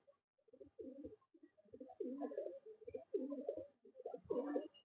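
Madrasi pigeons cooing close by, a series of soft, throaty rolling coos repeating every second or so, alone with no talk.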